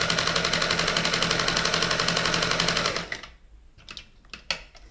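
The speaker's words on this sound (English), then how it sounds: "All in all, a very nice little sewing machine." A Kenmore 1030 sewing machine stitches with a fast, even mechanical clatter for about three seconds, then stops, followed by a few scattered clicks and knocks of handling.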